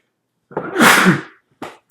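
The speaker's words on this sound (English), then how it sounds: "It's like instant sneezing." A single loud, close sneeze bursts out abruptly, followed by a brief sharp exhale.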